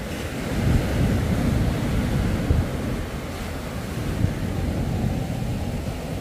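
Rough, continuous roar of heavy surf churning around boats in an extreme boating wave zone, with wind buffeting the microphone and occasional heavier surges, loud and without talk.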